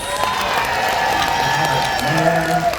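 A game show studio audience clapping and cheering together, a dense, loud roar of applause and whoops that holds steady throughout, with shouting voices mixed in.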